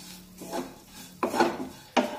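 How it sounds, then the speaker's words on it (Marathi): Spices sautéed and stirred in a pan: a few distinct scraping strokes of a spoon against the pan, with sharper scrapes near the middle and end, close and fairly quiet with no sizzle. "आता हे मसाले चांगले परतून घेऊया"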